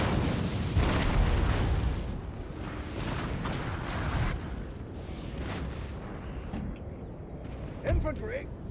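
Cannon fire in a Napoleon: Total War battle rumbles in deep booms and a continuous roar of guns, with a speaking voice laid over the noise and a few sharper pops near the end.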